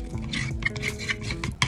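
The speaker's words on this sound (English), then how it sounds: "and then we mix everything together" A mixture of corn starch, banana peel and lemon juice is stirred in a bowl, giving soft, repeated scraping and light clinks of a utensil against the dish at close range.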